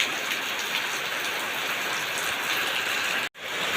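Heavy rain falls as a steady, full roar of drops drumming on surfaces. It cuts out sharply for a moment near the end, then returns.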